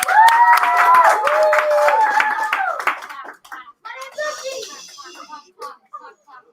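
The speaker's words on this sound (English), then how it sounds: "I think you should all get a round of applause." Children clapping at a year-end school event, a rhythmic burst of applause mixed with cheering young voices that fades after a few seconds into scattered claps and chatter.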